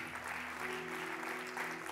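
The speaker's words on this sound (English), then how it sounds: "Can you clap your hands to the Lord one more time?" A church congregation claps their hands in praise during an evangelical service, a dense, even wash of applause filling the room for a couple of seconds, with a sustained organ or keyboard chord underneath.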